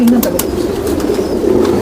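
Lal pari pigeons coo in a soft, steady low murmur, close by and fairly loud, with a few brief sharper sounds over the top.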